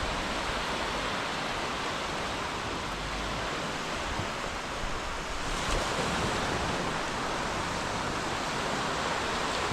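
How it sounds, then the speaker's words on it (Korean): Ocean surf washes in steadily on Koh Rong Island, Cambodia, a broad continuous roar with gusts of wind across the microphone and no voices. "끝없이 밀려드는 파도"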